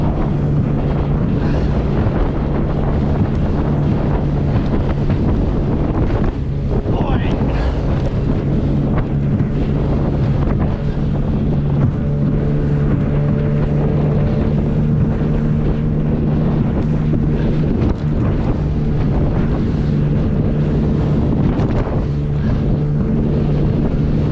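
A Quicksilver Ocean Runner 410 RIB powered by an Evinrude ETEC25 outboard runs across choppy Solent water in a force 5 wind, the engine droning steadily under loud, constant wind buffeting on the microphone.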